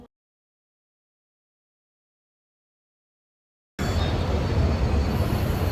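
Near silence, then a train's steady rumble and roar starts abruptly and continues loud, like riding inside a moving metro car.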